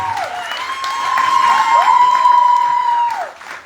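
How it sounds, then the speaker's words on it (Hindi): An audience at a talent hunt grand final prize ceremony at Asian Hospital in Faridabad claps and cheers. The applause is a dense, close wash that swells, holds for a few seconds, then fades, with a steady high whistle-like tone riding over it. "थोड़ा तालियां हो जाए।"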